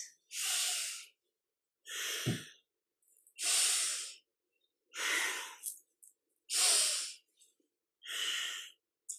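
Loud, close breathing during kundalini yoga side bends: forceful breaths in and out through the nose alternate in a steady rhythm, about seven strokes with short silent gaps between them.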